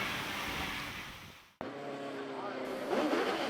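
A Ford Duratec-engined hillclimb race car climbs the hill at Gurston Down, its engine note rising steadily after a sharp cut, heard under a commentator's voice with broadband wind-like roar.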